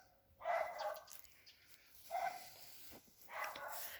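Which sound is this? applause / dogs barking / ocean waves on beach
dogs barking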